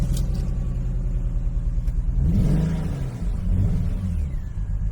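A BMW E46 engine runs with a rough, uneven misfire, its low rumble and rising rev swell loud and close throughout.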